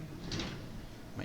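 A desk drawer slides shut with a short, quiet scrape and bump, then a faint second knock follows at the end.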